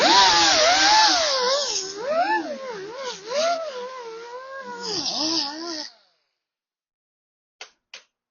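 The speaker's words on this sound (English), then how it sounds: "I'm gonna try to grind away some of this area in front of the tire here." An angle grinder cuts into steel car body panel just ahead of a tire during dent repair, a loud close whine wavering in pitch under load for about six seconds before stopping abruptly, followed by two brief clicks.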